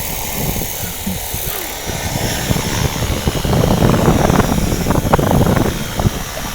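A radio-controlled Bell 206 model helicopter outdoors in strong wind, its engine whining steadily with broadband rotor noise that swells louder about halfway through as the throttle is pushed up, close to the microphone with no clear talk.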